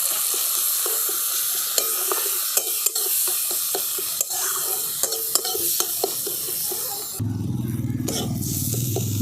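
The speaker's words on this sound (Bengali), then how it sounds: "এবার সব এই মশলাগুলো আমি খুব ভালো করে একসঙ্গে কষিয়ে নেব।" Salt, turmeric, cumin and coriander powder sauté in a hot pan with steady sizzling and frequent scraping stirs, the frying turning louder and fuller toward the end.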